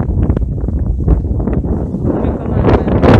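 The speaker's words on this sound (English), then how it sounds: "It's nice and windy. I know you can hear it." Gusty wind buffets the microphone in loud rumbling bursts at a house in Priory, St. Ann, Jamaica, with rustling underneath and no clear speech.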